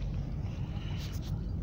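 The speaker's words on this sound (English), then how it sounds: "you can hear there is a wind, there's a strong northwesterly blowing" A strong northwesterly wind blowing at a fishing pier, a steady low roaring rumble buffeting the microphone throughout, loud and close.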